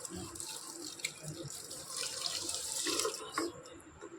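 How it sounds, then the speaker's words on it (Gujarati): Water poured from a vessel onto sugar in a pan to start a syrup for raw mango murabba, a close, steady splashing trickle that swells and fades, with no talking. "તેની અંદર આપણે પાણી નાખી દઈએ"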